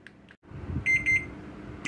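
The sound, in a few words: kitchen timer alarm going off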